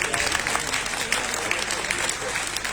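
A crowd at an ashram bhoomi pujan ceremony claps together in a dense, continuous burst, with speech mixed in with the clapping.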